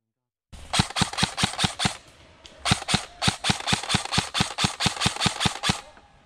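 Airsoft guns firing during an airsoft game, loud rapid bursts of sharp snapping shots close by, one volley of about six, a short pause, then a longer string of about fourteen evenly spaced shots.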